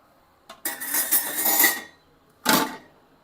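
A freshly cooked roti is lifted onto a plate in a home kitchen, heard as a small tap and then two close, bright clatters of a plate and utensil.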